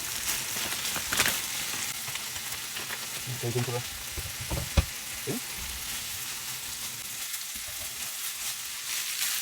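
Pre-cooked basmati rice sizzles and crackles steadily as it is stir-fried in a hot pan, with occasional scraping stirs and a brief spoken remark.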